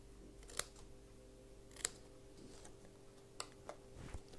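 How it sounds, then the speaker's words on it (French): Scissors snipping paper or fabric while trimming a small piece from a decorative table handbag craft, a few sharp separate clicks spaced irregularly over a quiet background. "Puis après, je viens couper un petit peu et retirer"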